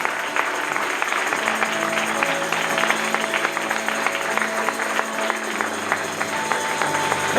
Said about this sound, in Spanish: Yo no sé cómo no le dan un aplauso al Señor.